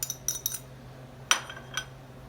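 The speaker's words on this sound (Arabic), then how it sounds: "وهنقلب المكونات الجافه كده كلها مع بعض" A utensil stirs dry ingredients and cocoa in a bowl, making a few light clinks and scrapes in quick clusters followed by two more isolated taps, faint against a low background hum.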